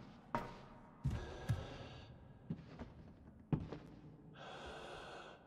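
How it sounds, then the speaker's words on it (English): A game character in POLLEN breathes heavily, with sharp gasping inhales and heavy exhales repeating at uneven intervals, close and fairly quiet, with a thud and a faint hiss near the end. "I like that my guy is now, like, having labored breathing problems."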